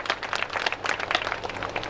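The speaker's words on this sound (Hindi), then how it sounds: "एक बार उनके लिए जोरदार ताली से स्वागत करें" A crowd claps in welcome for a guest called onto the stage at a community gathering, a steady, moderately loud patter of many hands with no break.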